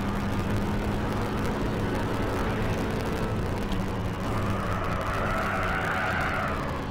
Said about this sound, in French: On a toujours par contre ce vieux bruit de, de dérapage qui n'a pas changé quasiment